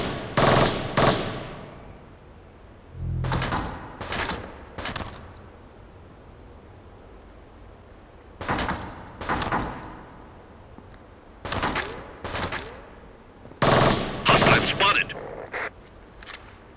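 Gunfire in Rainbow Six Lockdown, several loud bursts of automatic shots separated by quiet gaps, with a low thud early on and a denser cluster of rounds near the end; a voice speaks briefly.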